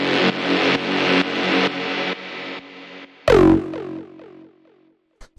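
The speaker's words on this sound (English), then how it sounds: "We have actually two more bass stabs." Techno bass stab samples with echo and reverb: a run of evenly spaced, loud, distorted stabs, then a sharper hit whose echoes repeat and fade away to near silence.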